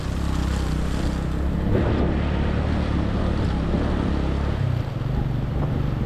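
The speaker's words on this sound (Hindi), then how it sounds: "उफ, कितनी स्पीड से पानी आ रहा है।" Glacier meltwater rushes fast down a rocky mountain stream beside a rough track in Pakistan's Hushay Valley, a steady loud broadband roar with wind buffeting the microphone throughout.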